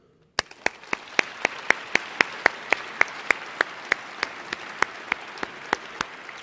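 Sharp, evenly spaced claps ring out one after another, roughly three per second, over a faint room background at a gala dinner and awards program honoring Emmy-winning journalists, sounding like a single clapper or a small synchronized group.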